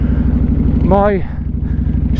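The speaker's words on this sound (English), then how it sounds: "V-twin with the hypercharger, loud exhaust and power commander that is probably running a bit rich" A 1600cc V-twin motorcycle with a hypercharger, loud exhaust and Power Commander running a bit rich, idling with a steady lumpy throb at an Outback petrol station while someone briefly talks over it.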